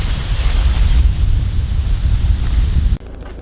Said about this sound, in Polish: Ekstra jest, ale wiatr, patrzcie, dalej.